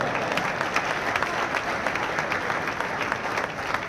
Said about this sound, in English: How about a big round of applause for this big dummy over here?